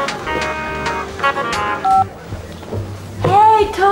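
A mobile phone sounds a quick series of dialing tones, short clean beeps of varying pitch, close and loud, punctuated by brief pauses and small handling noises.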